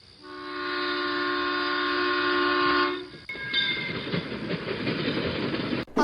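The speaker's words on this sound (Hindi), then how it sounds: "एक पुरानी सी ट्रेन आ रही है, काफी अजीब लग रही है।" An old train approaches as a horror-story sound effect: a loud, sustained horn blast lasting about three seconds, then rumbling wheels and rhythmic clattering of the cars rolling close by, with a sharp metallic clank near the end.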